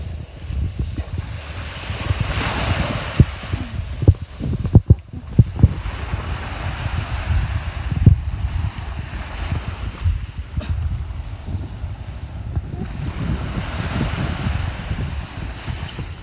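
Steady roar of sea waves washing in and out on a Hong Kong beach, with gusts of wind buffeting the microphone and occasional knocks, continuous throughout.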